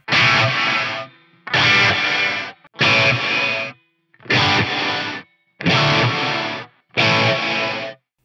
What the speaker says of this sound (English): you play a chord, 200 milliseconds, then you'll get the reverb effect, then it'll chop off